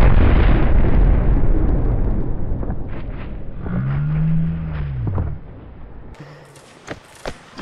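Cannon fire in Mount & Blade: Napoleonic Wars, a canister shot: a loud, booming blast opens, then a rumbling tail fades over several seconds, with a few sharper pops and cracks near the end.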